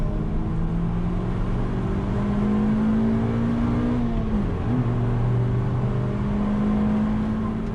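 A Suzuki Swift Sport drives on the Cadwell Park race track, its engine a steady close drone that rises in pitch, dips briefly as it comes off the power, then pulls back up under load.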